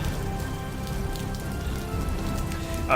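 Steady rain patters on a surface, filling the background of a tabletop role-playing session as an ambient effect, dense and even throughout with no voices.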